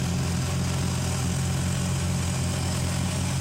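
Twin engines of a 1995 Silverton 310 Express boat in New Rochelle, New York, one replaced and one rebuilt, warming up at idle: a steady, even, close rumble with a low droning hum and no talking.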